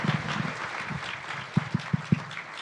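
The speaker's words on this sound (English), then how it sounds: "So please give them a round of applause." An audience at a law school alumni awards ceremony applauds: a wash of clapping, with a few louder, distinct claps near the end.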